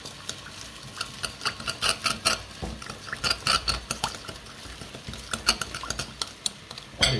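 Rice salad with surimi stirred in a bowl, giving a run of soft, irregular clinks and scrapes of utensil against the bowl, close up and without talk.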